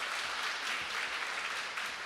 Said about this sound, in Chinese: 我们再给他们一个热烈的掌声